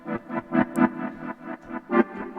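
A synth chord pattern run through a preset delay and an arpeggiator, giving a house-style groove: rhythmic pulsing stabs repeating about every half second with echoing tails, moderately loud and alone.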